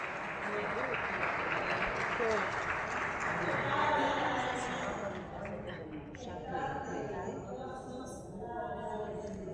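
Audience applause at a launch ceremony for a Havana travel company's events catalog swells over the first few seconds and then fades, with voices talking beneath and after the clapping.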